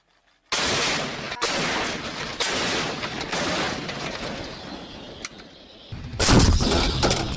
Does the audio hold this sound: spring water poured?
no